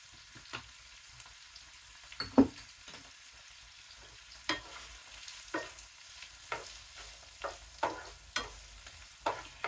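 Green beans seasoned with black pepper and salt fry in a pan on a two-burner cooktop, giving a quiet sizzle under repeated stirring scrapes and taps that come at a fairly regular pace, with no voices.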